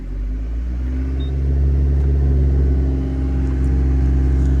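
A Daihatsu Copen convertible's engine is revved steadily and loudly, a constant low rumble that swells slightly after the first second and holds, with no talk.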